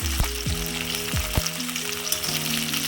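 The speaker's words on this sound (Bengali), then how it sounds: "এইভাবে হালকা করে ক্যাপসিকাম পেঁয়াজ ভেজে নেব।" Capsicum and onion fry in hot oil in a pan, a steady close sizzle with a few sharp clacks of utensils against the pan, no talking.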